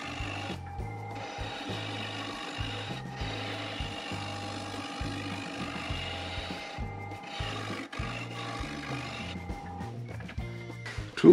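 A scraper works a spinning cedar bowl on a wood lathe, giving a steady close-up grinding drone with a rhythmic pulsing scrape and a brief louder bump at the end.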